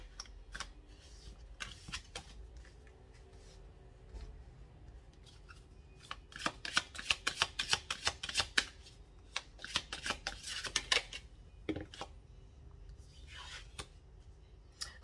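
Tarot cards being shuffled for a reading, with quiet rustling at first and then bursts of rapid riffling and slapping that come close and fairly soft, with no talk.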